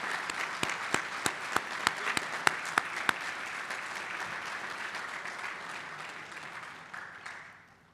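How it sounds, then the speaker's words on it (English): Warm applause from a seated audience at a signing-day ceremony honoring training partners, with a few sharp nearby claps standing out early before the clapping thins and fades away toward the end. "Can we all give them a warm round of applause?"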